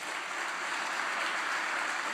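A church congregation applauds, a steady wash of clapping from many hands at moderate distance, sustained evenly with no voices.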